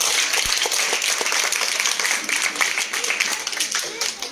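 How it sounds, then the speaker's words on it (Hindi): A group of children at a Holi celebration clapping loudly for themselves: dense, rapid, sustained applause up close, with voices mixed in. "अपने लिए एक जोरदार ताली बजाओ"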